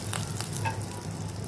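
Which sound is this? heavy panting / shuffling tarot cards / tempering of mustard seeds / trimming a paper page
tempering of mustard seeds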